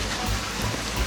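An artificial waterfall at a resort in Porac, Pampanga, hissing like steady rain, a dense, even wash of falling water throughout with no voices.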